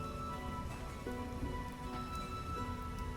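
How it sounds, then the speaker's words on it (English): Steady rain patters on a surface in a continuous downpour in the video game The Witcher, with faint tonal music humming underneath. "What a downpour."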